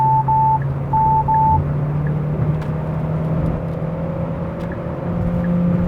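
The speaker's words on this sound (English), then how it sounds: "when you turn it into the sports mode, it really changes character. I think the motor just works harder and pushes the car." A 2020 Hyundai Sonata drives at night in sports mode, giving a steady interior hum of engine and road noise with faint electronic tones, loud and continuous without talk.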